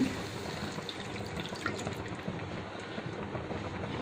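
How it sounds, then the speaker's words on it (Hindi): Half a glass of water pours steadily into a pan of aloo gobi, a soft continuous splashing and gurgle, close and moderately quiet with no talking. "डालने के बाद इसमें हम डालेंगे अभी आधा ग्लास पानी"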